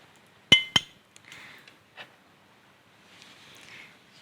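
Blackberries dropped one by one into a glass, two sharp bright clinks close together followed by a few softer taps and light rustling in a quiet kitchen.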